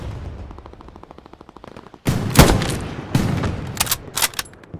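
Gunfire in the Hell Let Loose video game: a rapid train of soft distant shots gives way to loud, close bursts of automatic fire and sharp cracks, with no talk over them.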